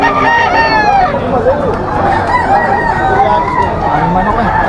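Roosters crow repeatedly amid a busy Malabon pet market, their calls layered over constant crowd babble and clucking fowl, with people talking nearby throughout.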